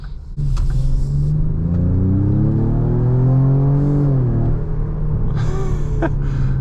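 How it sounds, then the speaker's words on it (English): The engine of a 2026 Ford Explorer ST, artificially amplified through the cabin, revs up and accelerates with a rising, growling tone, loud and close from inside the vehicle, with short bursts of noise at start and end. "They kind of amplify the sound to make it sound like it's more beefy than it is"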